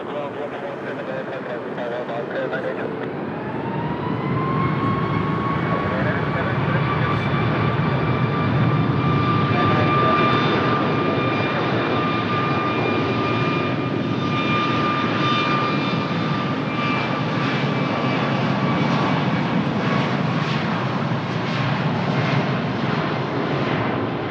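A jet airliner takes off at Lisbon Humberto Delgado Airport in Portugal, its engine roar rising into a loud, steady sustained thrust with a whining tone that holds throughout, heard from a distance outdoors.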